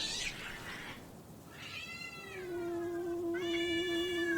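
A stray cat gives a breathy spit, then drawn-out rising meows and a yowling caterwaul that grows louder toward the end, close by in an otherwise quiet room with no talking.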